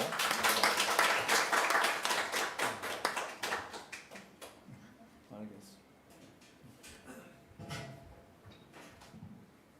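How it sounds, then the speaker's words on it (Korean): Dense clapping from a church congregation fills the first few seconds, then thins into scattered claps and fades as a voice begins speaking. "귀한 자매님 모실 때 박수로."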